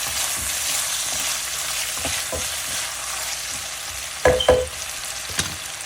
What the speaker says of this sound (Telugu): వెల్లుల్లిపాయ వేగుతున్నప్పుడు పొటాటో కూడా వేయాలి. ఒకసారి కలుపుదాం.